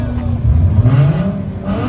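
Tuned race car engine revving through the gears, a short rising growl that swells and falls over under two seconds, heard from a distance under faint background voices.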